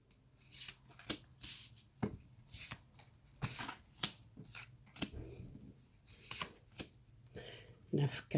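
Tarot cards are shuffled and drawn by hand, close crisp riffles, snaps and slaps in an irregular series of sharp taps, with a voice speaking softly beneath.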